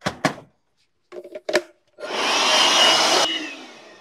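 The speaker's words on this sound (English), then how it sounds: "If you ever buy a set of Milwaukee tools and this blower's in it, you may think, what do I do with that?" A Milwaukee cordless blower spins up after a few short clunks and clicks, then roars steadily and loud at close range for over a second before winding down.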